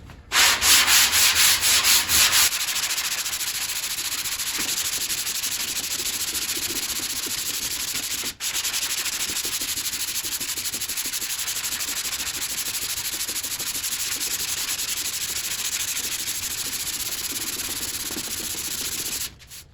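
Steady, continuous rasping of a flexible sanding block worked back and forth over car body filler on a curved panel, loud and close, with a brief harsher burst at the start and a short break midway.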